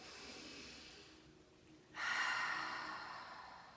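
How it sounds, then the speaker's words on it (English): A deep 360-degree inhale, drawn as a long breathy rush that swells suddenly after a quieter stretch and then fades gradually, close and alone. "when I do a 360-degree breath with my inhale"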